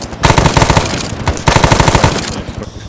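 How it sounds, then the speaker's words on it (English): Machine gun fire in the Vietnam-era shooter Arma 3 SOG Prairie Fire, two loud, fast sustained bursts of automatic fire split by a brief pause, close and alone with no talk over it. "Yeah, machine gun out here, mate, on the right flank"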